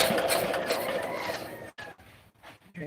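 A small low-speed engine turned by hand with a clockwise crank, giving a steady mechanical churning that cuts off into a few brief, uneven strokes near the end.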